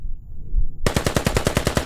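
After a brief quiet moment, a rapid automatic burst of gunfire erupts in the tactical shooter game Squad, evenly spaced loud shots in quick succession, close and sharp with no talking.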